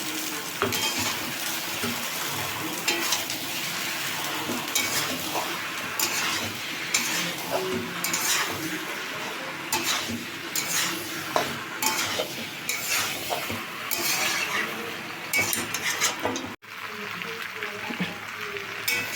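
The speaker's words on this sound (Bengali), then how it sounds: "এবার ভালো করে নেড়ে চেড়ে মশলা দিয়ে সবজিটা একটু কষিয়ে নিচ্ছি" Vegetables being stir-fried in butter with cumin, mustard seeds and ginger, a steady sizzle with repeated spatula scrapes and clinks against the pan, close and continuous, with a voice talking at times.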